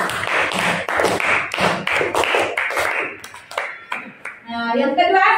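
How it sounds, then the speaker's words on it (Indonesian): A burst of lively clapping from a classroom group fills the room, tapering off as a voice begins to speak near the end. "Tepuk tangan untuk Reski."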